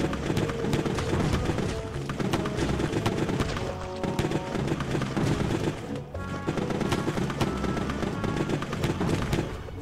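Bombs explode in a video game as a dense, continuous barrage of loud blasts and crackling bursts under game sound, with no break across the stretch.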